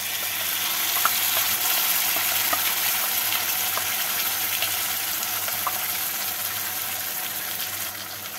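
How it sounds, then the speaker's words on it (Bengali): Onions fry in an oiled pan as ground spice paste goes in, making a continuous dense sizzle with scattered crackles and faint stirring, close and steady throughout, with no voices. "পেঁয়াজগুলো ভাজা হয়ে গেছে, এবার এর মধ্যে বেটে রাখা মশলাটা দিয়ে দেবো।"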